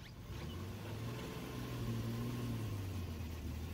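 A small pickup truck's engine idles steadily on a boat ramp, a low continuous hum that rises slightly in the middle and holds on alone, with no talk.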